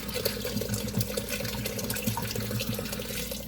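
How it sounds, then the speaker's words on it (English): Water runs and pours into a pot, at least two quarts for French onion soup, a loud continuous splashing gush with a steady ringing fill tone, close by and without talking. "at least 2 quarts of water"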